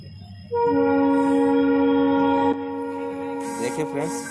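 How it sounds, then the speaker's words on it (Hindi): The Gorakhpur–Gomti Nagar Express sounds a loud sustained horn as it departs Lakhimpur station, a steady blast of about two seconds followed by a quieter horn tone and rail noise, with someone speaking over the end. "देखिए ट्रेन प्रस्थान करती हुई और निकलती हुई"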